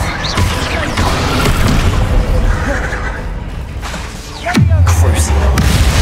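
Confringo blasting spells explode in Hogwarts Legacy, loud booming bursts and crackling impacts with a heavy low rumble, the strongest blast landing near the end, under a brief spoken voice.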